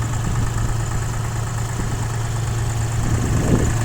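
ISEKI TU165 compact tractor engine idling nearby, a steady, even drone with a low hum throughout and no pauses.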